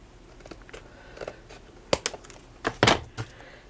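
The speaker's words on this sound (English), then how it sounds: "Hopefully cut it with the scissors." Several sharp snips of scissors sound close up, irregular crisp cuts with a cluster of quick snaps near the end, quiet otherwise.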